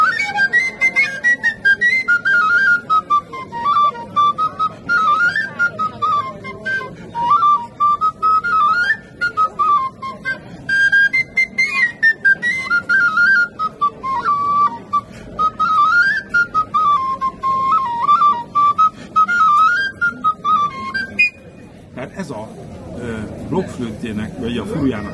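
Hungarian folk furulya, a wooden fipple flute, plays a lively Transdanubian tune in a clear, breathy, whistle-like tone with quick ornamented runs, up close and unaccompanied, ending with some rustling handling noise.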